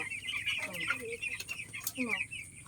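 Broiler chicks in a coop cluck and cheep continuously at close range, a dense chorus of overlapping high calls with a few louder peeps standing out.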